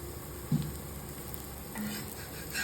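A podi dosa sizzles and fries on a hot pan at home, a faint, soft crackle running quietly under low background noise with a short louder tap early on.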